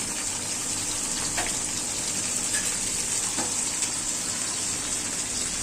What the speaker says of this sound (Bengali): তেল দিয়ে দিচ্ছি, পেঁয়াজটা লাল হোক। আদা রসুন দিয়ে দিলাম